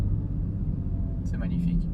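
BMW M2 CS engine pulling in fourth gear, a constant low rumble heard from inside the car as a voice speaks briefly near the end.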